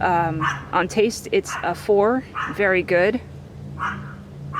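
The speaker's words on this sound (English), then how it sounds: "sorry about the annoying dog in the background." A dog barks and yips repeatedly behind a man's steady speech, the barks recurring through most of the stretch at a moderate distance.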